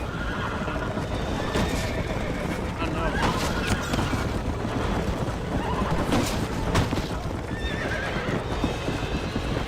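Horses in the Red Dead Redemption video game gallop with steady clip-clop hoofbeats and let out repeated neighs and whinnies, loud and continuous over wind and rushing noise, with game voices speaking.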